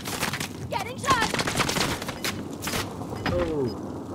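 Gunfire in the Warzone video game, rapid bursts of shots with sharp cracks and whizzing tones, close and loud, under faint voices.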